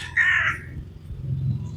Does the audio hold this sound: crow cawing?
yes